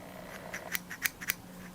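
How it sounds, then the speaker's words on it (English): Sharp stainless steel scissors from a beauty advent calendar snip several times in a short, uneven sequence of crisp close-up cuts, with a faint steady hum underneath and no talking. "Got some stainless steel scissors there."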